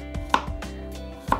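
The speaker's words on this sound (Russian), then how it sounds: "нужно нарезать тоненькими пятачками" A knife chops cucumbers into thin rounds on a cutting board, a handful of crisp, close strikes at an uneven pace with no voices.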